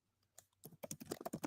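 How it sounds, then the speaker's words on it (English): Frantic typing on a computer keyboard: a few scattered keystrokes build quickly into a rapid, loud burst of close clicking, with no talk. "You'll hear frantic 90s typing"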